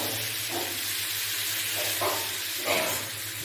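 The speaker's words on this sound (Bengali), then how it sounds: "এতে পরিমাণ মতো হলুদ দিয়ে নিয়েছি, দিয়ে আমি এই সব মশলার সঙ্গে ভালোভাবে এটাকে কষিয়ে নেব" Salt and turmeric cooking into spices in a pan for a fish-oil chorchori, a steady soft sizzle with a few faint stirring scrapes, fairly quiet and continuous.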